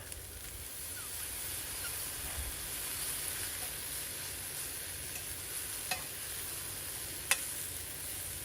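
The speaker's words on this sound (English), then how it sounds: "those mushrooms are cooking down nicely now" Mushrooms cooking down with spices in a pan outdoors give a faint, steady sizzle with a few soft utensil taps, no voices.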